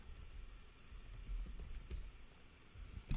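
Typing a script on a computer keyboard, a steady, close run of quick key clicks at a brisk uneven pace, with no voices.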